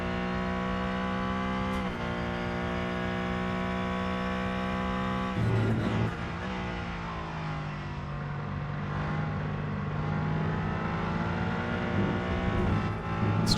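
A Mercedes race car engine in the Rennsport racing game holds a steady high drone. Partway through it revs up and gear changes break the tone, with no one talking.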